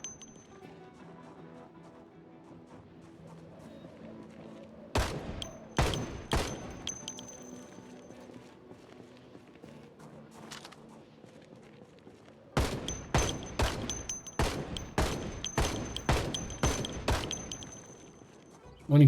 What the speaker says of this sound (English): the automatic aiming is shooting at the guys behind the fence